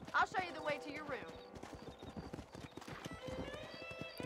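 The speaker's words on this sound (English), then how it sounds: "I guess the horses are in the stable." Horses in a stable in the Red Dead Redemption video game: a loud whinny up front, followed by clip-clopping hooves and snorts, with a voice speaking over the hoofbeats.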